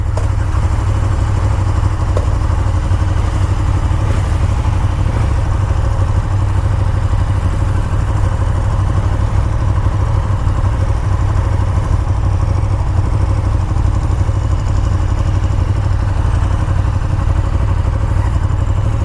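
A KTM 1290 Super Duke R rides slowly, its big twin engine giving a loud, steady, close-up rumble with a chugging low-end throb and a mechanical clatter, unbroken for the whole stretch.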